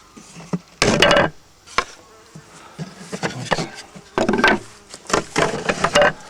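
Honeybees in a hive, a swarm set behind a divider board, buzz in scattered loud bursts close to the listener, mixed with wooden knocks and rustling of frames.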